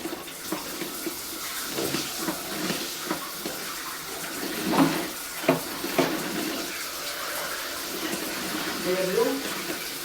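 Water flows out in a continuous splashing stream with scattered clunks and drips, while people talk over it.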